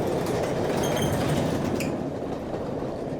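A train rolls steadily along its rails, a loud continuous rumble with faint clatter, heard up close from alongside the carriages where mail pouches hang from an arm outside.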